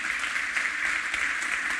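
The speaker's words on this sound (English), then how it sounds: "So I think she deserves a very big applause." Audience clapping steadily at a women-in-tech conference, a dense wash of applause from a room full of people without any talking over it.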